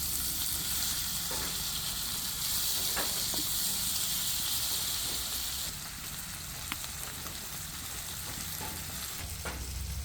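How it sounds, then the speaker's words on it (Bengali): Fish pieces fry in hot oil with a loud, continuous hissing sizzle, dotted with small pops and crackles. The sound drops to a slightly lower level partway through but keeps bubbling steadily. "মাছগুলো ভাজা হয়ে গিয়েছে।"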